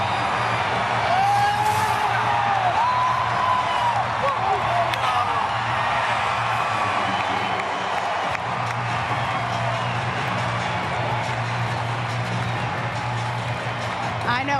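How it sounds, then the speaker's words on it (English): Atlanta Braves fans roar and cheer in a packed stadium during a Phillies vs Braves game, a sustained loud crowd wash with whoops, while a broadcaster talks over it. "take a second and listen to this crowd for you right now"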